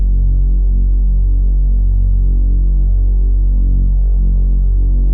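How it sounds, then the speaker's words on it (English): A thick Reese bass synth layer drones through a dance track intro, a loud, deep, detuned tone with a steady throbbing, phasing wobble that sustains alone without a break. "what I decided to do is also layer in a Reese bass that sounds like this"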